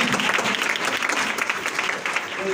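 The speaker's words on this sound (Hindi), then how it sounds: "आइए सुनसी की भी जोरदार तालियां दें।" Loud, dense audience applause fills the room throughout, a steady wash of many hands clapping at a religious gathering, with faint voices underneath.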